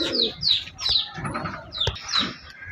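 A black-necked male pigeon and its mate coo and chirp nearby in rhythmic short phrases, several calls rising and falling one after another.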